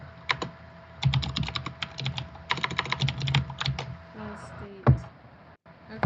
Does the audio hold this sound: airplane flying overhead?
no